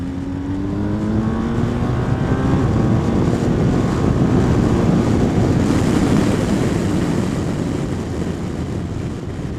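A 2020 BMW R1250 GS motorcycle's engine drones steadily while riding, a loud, continuous rumble with a rising whine as the revs climb, mixed with wind rush.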